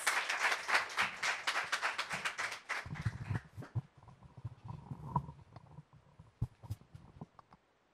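An audience claps after a reading at a literary event, a dense burst of applause that fades out after about three seconds, followed by scattered quiet taps and low room noise.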